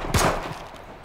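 A single sharp gunshot from the H1Z1 zombie survival game, fairly close and loud, followed by a short fading echo.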